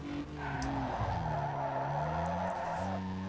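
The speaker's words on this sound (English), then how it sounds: "Whip the car with the handbrake and should be good to go." In Need for Speed Underground 2, car tires skid and squeal through a handbrake turn, a long loud wavering screech over the engine's steady drone, continuous and close.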